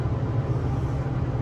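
Steady low droning hum of an exhaust fan running inside a paint mixing room, constant and fairly loud with no other sounds.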